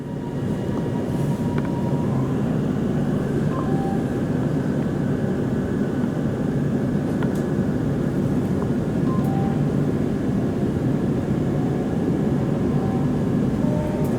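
A High Capacity Metro Train rides the Melbourne line from Flinders Street toward Dandenong, a steady, close cabin rumble with faint, brief clicks and squeaks throughout and no talking.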